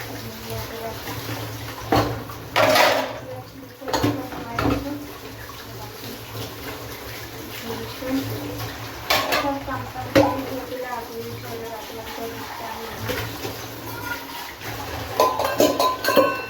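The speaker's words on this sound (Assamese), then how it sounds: "বাচনখিনি ধুই লওঁ" Dishes being washed in a home kitchen, with scattered clinks of utensils and bursts of water under steady background noise, while people talk intermittently nearby.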